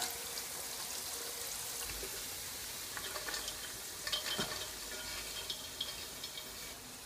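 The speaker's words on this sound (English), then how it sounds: "So now I will pour it through a strainer." Hot rendered lard from a cracklings batch poured through a strainer, a continuous hissing, spattering pour with scattered drips and light metallic clicks, close and steady, with no talking.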